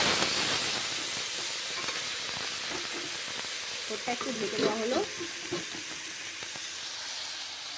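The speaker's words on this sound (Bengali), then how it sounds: "এখন শোল ভাজা করার জন্য বসিয়ে দেওয়া হয়েছে" Snakehead fish fry in a pan with a steady, close sizzle and hiss throughout, joined midway by a few stirring scrapes, while a voice speaks briefly over it.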